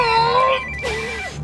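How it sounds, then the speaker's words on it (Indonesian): A telephone rings with a bright, warbling electronic tone in a short repeated burst, then falls away as other sounds and a brief vocal-like sweep take over. "Hingga dia mendapatkan telepon dari sekolah Joy mendesaknya untuk berbicara dengan kepala sekolah."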